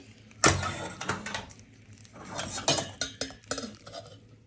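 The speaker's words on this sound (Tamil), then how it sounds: "கொஞ்சம் கொஞ்சமாக தான் இந்த பானியை ஊற்றி இந்த முறுக்கை குலுக்கி சேர்த்துக்க போகிறீங்க" Fried Jaffna vettu murukku tossed in a pan with sugar syrup poured over, making clattering, scraping rattles in uneven bursts as the pieces are shaken, close and moderately loud.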